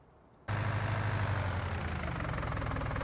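Tractor engine in Farming Simulator 19 starting up and settling into a steady, loud idle with a low droning rumble that holds evenly after a brief quiet moment, with no talk over it.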